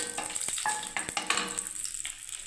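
Cinnamon sizzles in hot oil in a pan over a flame just turned down to a simmer, with a steady crackling fry and a few sharp clinks and stirring knocks throughout.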